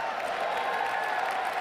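Audience applause and crowd noise from an aggressive political inauguration speech, a steady dense wash of clapping with faint cheering, continuous and even throughout.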